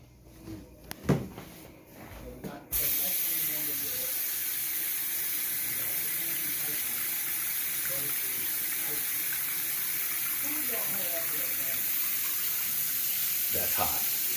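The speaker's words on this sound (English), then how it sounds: "I actually hear the water running." Hot water runs steadily from a home shower fed by a newly replaced electric water heater, a constant close hiss that starts abruptly after a few seconds of quiet handling noises and continues unbroken.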